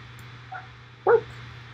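A dog gives a single short bark, preceded by a faint whimpering yip, heard fairly close over a low steady hum in a quiet room.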